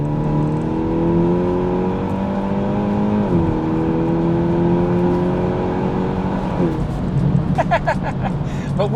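A MINI John Cooper Works F56 holds a steady engine and exhaust drone, with the pitch shifting partway through, then a sudden burst of raspy, crackling revs near the end.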